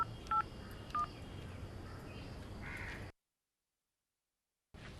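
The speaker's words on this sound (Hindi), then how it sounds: "हाँ फोन लगाओ।" A telephone sounds two short, sharp dialing beeps against a faint hiss, followed by a gap of silence before the background noise returns.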